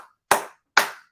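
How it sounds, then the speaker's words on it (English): Two sharp, close hand claps, evenly spaced about half a second apart, in an otherwise quiet room. "I'm clapping here."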